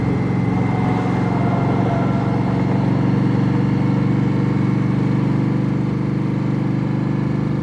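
A 2016 Indian Scout cruiser motorcycle drones steadily while being ridden, with a loud, continuous engine hum and wind noise at even speed and no talking.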